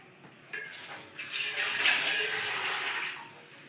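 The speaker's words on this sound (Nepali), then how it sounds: "अब यो पानी मैले अलिकति पानी मिसाइदिएँ" Water poured into a pot of moong lentil dal being cooked for two, a steady splashing pour that swells after a brief trickle and runs for a few seconds before tapering off, close and fairly loud with no talk.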